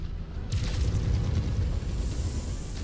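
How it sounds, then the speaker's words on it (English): Artillery cannons firing in MechWarrior 5, a heavy low rumbling boom that swells in and rolls on steadily with a sustained deep roar for the whole stretch. "artillery cannons."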